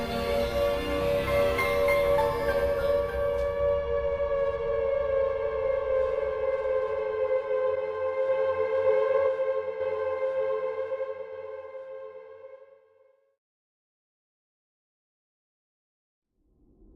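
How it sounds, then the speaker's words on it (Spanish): A distant siren wails as a sound effect, holding a long steady tone with rich harmonics before gradually fading away into silence. "se comienza nuevamente a escuchar una sirena a lo lejos"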